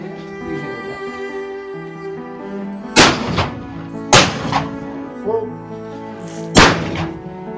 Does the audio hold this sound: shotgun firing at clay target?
yes